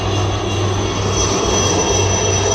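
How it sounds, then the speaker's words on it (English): Dhruv ALH Mark III helicopter flanked by two Cheetah helicopters passing overhead at an Indian Army Vijay Diwas celebration, a steady loud engine and rotor roar with a low droning hum, continuous throughout with no voices. "followed by the Dhruv helicopter, ALH Mark III, proudly carrying the national flag, flanked on either side by two Cheetah helicopters"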